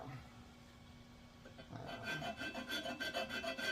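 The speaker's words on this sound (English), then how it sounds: "I'm just kind of touching this with a file here" A hand file rasps back and forth over a small protrusion on a Harbor Freight arbor press part, faint at first, then a quicker rhythmic series of close, scratchy strokes.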